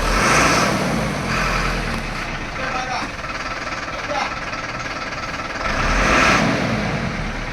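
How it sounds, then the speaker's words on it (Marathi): A vehicle engine rumbles and revs nearby as a car pulls away, with people talking over the motor noise. "गाडी बाहेर निघते छानपैकी"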